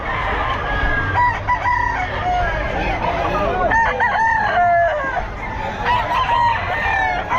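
Trini cross gamefowl at a busy Bocaue pet market, roosters crowing repeatedly and clucking close by, loud and overlapping, with market noise and faint voices in the background.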